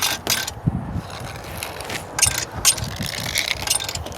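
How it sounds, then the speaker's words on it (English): Retractable garden hose reel (Yamatic) winding in its hose, giving a steady mechanical ratcheting whir with scattered clicks and louder rattling bursts throughout, close by and without talk. "now it's reeling up how it should."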